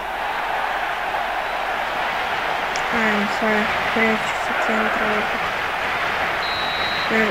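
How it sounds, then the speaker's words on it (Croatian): A stadium crowd roars in the PES 2013 football video game, a steady, loud wash of cheering that fills the whole stretch while someone talks over it. "Ok, publika se tu čuje."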